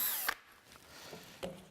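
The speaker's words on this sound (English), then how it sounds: "I drill the hole more or less upright" An electric drill bores a hole in wood on a lathe screw chuck setup, a couple of brief bursts of drilling separated by quieter gaps, close by with no talking.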